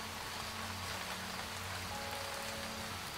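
Acid rain falls in the video game Starbound as a steady, even hiss of rainfall that continues without a break, with no voices over it.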